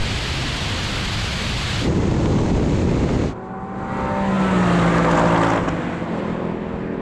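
A Ford Mustang Mach 1 or Porsche Cayman engine revs hard and roars past up close during a drag race, its pitch sweeping as the gears change, loud and alone.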